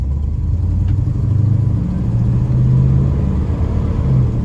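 A 1966 Buick Wildcat with a Super Turbine 400 transmission pulls hard in second gear on a test drive, its low engine rumble swelling steadily from inside the car.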